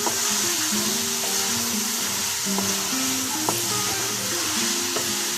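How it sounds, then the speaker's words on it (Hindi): Cauliflower and potatoes stirred into frying masala in a pan, a steady loud sizzle throughout with occasional scraping and clinking of the spoon as the pieces are mixed. "गोभी शामिल कर दें और इसको अच्छे तरीके से मिक्स कर लें।"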